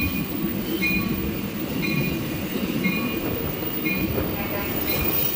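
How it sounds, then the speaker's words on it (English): Amtrak Cascades Talgo 8 train 505 departing Vancouver, Washington station, a loud continuous rolling rumble of wheels on rail with faint squeals, close and steady. "We're now at Highball out of Vancouver Station. Amtrak train 505."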